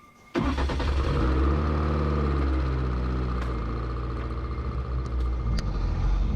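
A BAC Mono R with a 2.5 litre engine that revs to 9,000 rpm fires up and runs loudly, a sharp start followed by a steady, rich engine note with small rises in revs, heard close and alone.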